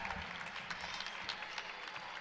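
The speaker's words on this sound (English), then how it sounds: "Some ovations from the Wolverine crowd here." Wolverine fans at a Utah Valley versus Tarleton college basketball game give a faint, distant ovation of scattered applause and crowd noise as the clock expires.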